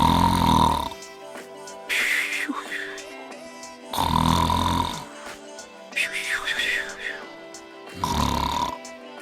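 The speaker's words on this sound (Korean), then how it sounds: "말을 마친 거인은 이내 코를 골기 시작했다." A giant's snoring, as a storybook sound effect, rises and falls in slow loud rumbling cycles, each deep rattling inhale followed by a whistling tone, repeating about three times.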